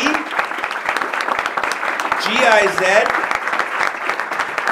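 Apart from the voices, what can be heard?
audience applause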